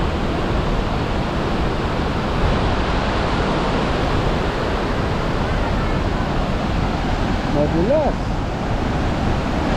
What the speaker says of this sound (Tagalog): Grabe, lakas ng agos